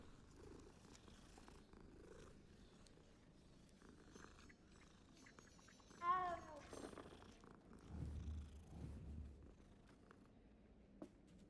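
A cat purrs in a low, rhythmic rumble close by, with a brief meow-like chirp and a few scattered rustles partway through.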